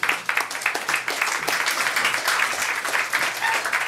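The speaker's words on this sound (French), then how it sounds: "On applaudit, mesdames et messieurs." An audience at a third-anniversary evening show claps steadily for a few seconds, a dense, moderately loud round of applause with no talk over it.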